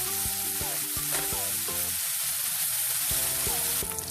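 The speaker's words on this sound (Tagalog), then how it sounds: "Gigisa lang natin ito muna sa mantika para maluto yung ating meat." Meat sautéing in cooking oil for Filipino adobo, a steady close sizzle and crackle of frying with faint stirring clinks, no voices.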